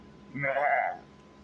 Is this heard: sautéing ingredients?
no